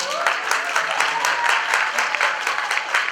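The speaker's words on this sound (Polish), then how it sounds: "Wielkie brawa, proszę Państwa." Lively applause from the audience at a Woman of the Year awards announcement greets the winner. Fairly close, loud clapping holds a brisk, slightly rhythmic pulse throughout.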